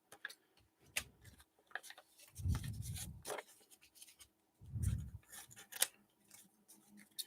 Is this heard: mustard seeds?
no